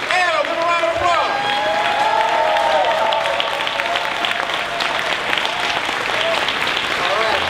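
A room audience at a business networking event gives a sustained round of applause, with scattered cheers and whoops over the clapping that runs steadily throughout.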